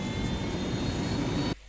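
Aircraft engine drone in Ghost Recon Wildlands, a steady, loud airplane engine roar holding without change before cutting off abruptly near the end.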